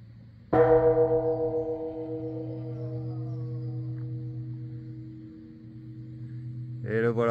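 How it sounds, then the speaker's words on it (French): A temple gong in the mountains of Shikoku is struck once, loud and close, then rings on in a long, slowly fading hum; a voice begins just as the ringing continues. "sonne bien le gong, qu'on t'entende dans toute la contrée"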